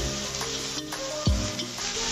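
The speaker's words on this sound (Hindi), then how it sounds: "अब इसमें ऐड करेंगे अदरक लहसुन का पेस्ट।" Ginger garlic paste frying with browned onions and curry leaves in a pan for chicken fry, a steady close sizzle with stirring scrapes and one brief louder clatter, no talking.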